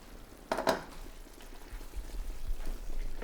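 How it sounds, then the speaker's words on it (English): Linguine and its starchy cooking water are lifted into a pan of cream sauce with a brief splashing pour and a clink, followed by a soft, low simmering hiss. "we're just going to get this and just lift it out and add it into our pan"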